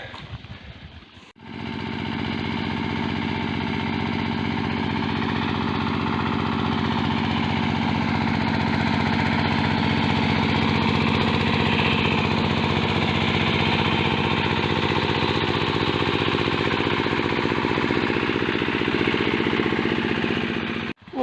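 A small tractor engine drones steadily in a pumpkin field, a loud, continuous rough mechanical hum with no break in rhythm, close by and alone without any talking.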